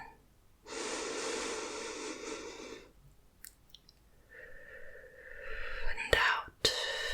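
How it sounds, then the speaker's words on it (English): A long, steady inhalation during a guided breathing exercise, heard up close and alone, followed by quieter breathy sounds and a few short sharp sniffs or gasps near the end. "So we're going to breathe in."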